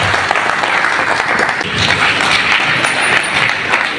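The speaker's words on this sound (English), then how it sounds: "Keep clapping." Loud audience clapping after a public lecture on German-Nigerian energy cooperation, a thick continuous roar of hands in a large hall, holding strong for the whole stretch with a brief dip midway.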